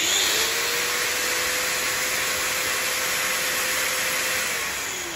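A Nagawa CG100U cordless battery angle grinder runs unloaded with a loud, steady high-pitched whine and a rough motor hum, spinning up at the start and winding down slightly at the end.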